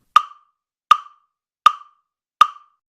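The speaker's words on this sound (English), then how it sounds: "A metronome sounds like this." Metronome ticking alone at a steady even pace, four sharp clicks about three-quarters of a second apart, crisp and close with nothing else audible.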